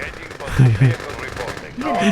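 Rapid bursts of infantry gunfire from the real-time strategy game Red Alert 2 crackle steadily in the background while someone talks excitedly over the battle.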